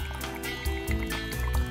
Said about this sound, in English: pour in some coffee liqueur, and then pour in about twice as much vodka